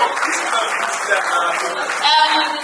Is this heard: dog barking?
no